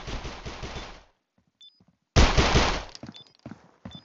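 Rapid automatic gunfire bursts from the mobile shooter Critical Ops, a dense rattling volley, a short pause with faint clicks, then a second louder sustained burst followed by a few scattered shots.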